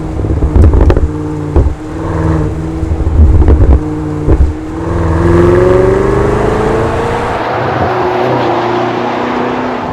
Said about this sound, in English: Lovely pop and burble on the overrun,